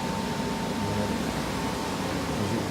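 A turbo dryer runs on a carpet after low-moisture cleaning and tar removal, giving a steady, close roar of fan air with a faint hum and no change in level throughout.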